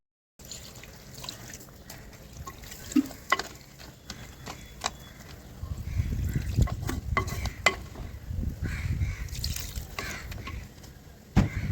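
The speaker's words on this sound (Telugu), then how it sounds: "ఈగురుకు సరిపడా వాటర్ వేసుకోవాలి కలుపు" A Godavari-style crab curry is stirred in a pot after water is added, giving a soft wet swishing and scraping with occasional clinks of the spoon against the vessel, growing fuller and louder partway through.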